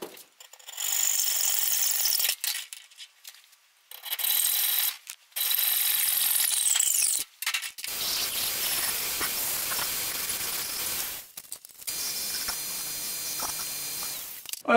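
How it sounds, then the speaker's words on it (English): A belt grinder cleans up the cut ends of metal brackets in a workshop, a loud, close, broadband grinding hiss that comes in several long bursts with short quiet gaps between them. "now we're just gonna cut the ends off of this, take it over to the belt grinder"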